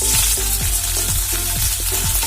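Crushed ginger and curry leaves fry in oil in a pan for a Kerala egg roast, a loud constant sizzle. A spatula scrapes through them in regular strokes, about two each second, close up.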